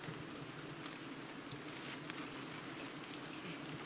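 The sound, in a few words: rain starting to fall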